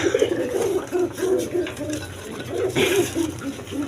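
Several pairs of pigeons coo in cages at a pigeon sale, a steady series of low rhythmic coos, fairly close and loud, with faint background noise.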